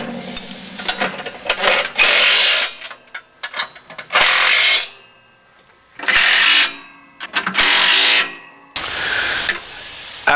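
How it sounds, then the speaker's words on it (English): Power tool tightening the twelve 5/16 bolts on an AWS Airbar impeller, loud bursts of whirring and ratcheting about two seconds each, separated by short quiet gaps with no talk. "Now that we've inserted all the bolts, we're going to go ahead and tighten them up."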